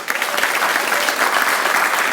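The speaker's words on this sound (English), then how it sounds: "Let's give him a big round of applause." A mayor's town hall crowd claps in a brief, dense burst of applause that stays even throughout.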